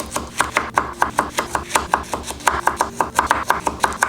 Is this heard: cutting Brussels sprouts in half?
yes